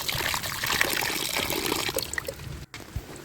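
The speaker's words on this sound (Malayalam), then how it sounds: "വെട്ടിക്കഴിഞ്ഞ് കഴുകാം." Water from a tap runs steadily while fish pieces are rinsed and washed in a kitchen, a close, continuous splashing trickle that drops out briefly near the end.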